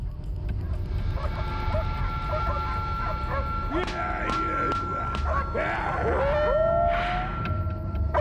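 Several farm dogs barking in short bursts at a distance on a neighboring farm, mixed with yelps over a steady windy rumble.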